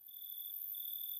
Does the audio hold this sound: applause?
no